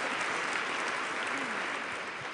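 A seated audience at a talk gives a dense, steady round of applause, evenly filling the room for a couple of seconds without pause.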